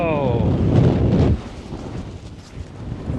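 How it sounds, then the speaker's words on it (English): Strong wind at Meteor Crater in Arizona buffets the microphone with a loud, low roaring rumble. A voice is briefly heard at the start. The gusts ease after about a second and then swell again near the end. "That wind is something."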